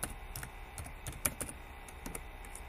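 Rapid, close keystrokes on a computer keyboard as someone types an adb terminal command on an Ubuntu 18.04 machine; a steady run of uneven clicks with no voices.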